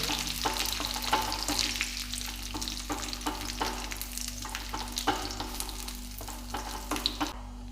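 Curry leaves fry in hot oil for a tomato pachadi, crackling in a steady close sizzle broken by repeated scraping stirs of a spoon in the pan.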